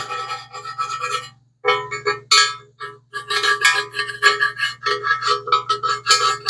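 Welding slag scraped and chipped out of a fabricated Eagle Hemi intake manifold, a loud steady metallic rasping with a low hum beneath, broken by short pauses, heard alone without speech.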